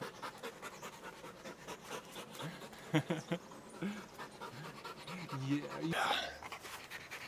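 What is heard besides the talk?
dog panting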